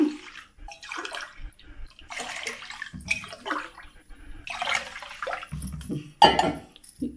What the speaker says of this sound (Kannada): ಇದರಲ್ಲಿ ಮೂರು ಲೋಟ ನೀರು ಹಾಕ್ಕೊಂತೀನಿ